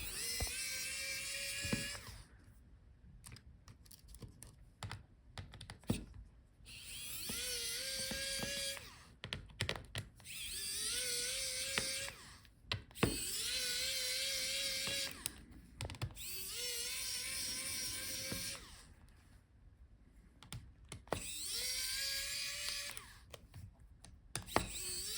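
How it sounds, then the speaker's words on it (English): Screws being removed from an HP Envy x360 14 laptop during a teardown, with repeated bursts of a small electric screwdriver whining up and stopping, alongside light clicks and taps, close and quiet. "now let's take out all the screws"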